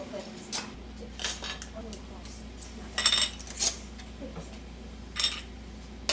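Glass canning jars clink and knock against each other and the metal canner as they are stacked for ham and bean soup, giving scattered bright chinks over a steady low hum.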